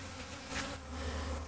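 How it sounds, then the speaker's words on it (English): A honeybee swarm hums in a steady, dense drone close by, swelling briefly and then holding level throughout with no voices. "we're going to check and see if the bees have figured out where the queen is"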